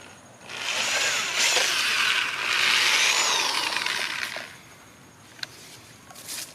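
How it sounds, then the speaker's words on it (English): A power drill whines loudly for several seconds as it bores holes through a Ford Expedition rear mud flap, then winds down, followed by a few faint clicks and handling noises. "drill out these holes specified"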